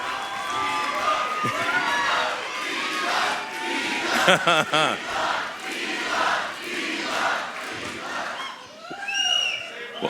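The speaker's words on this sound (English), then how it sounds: "I'm guessing this is a pro-Elon crowd somehow" A large crowd at an Elon Musk town hall event cheering, shouting and whooping loudly and continuously, with overlapping voices and a few sharp yells standing out near the middle.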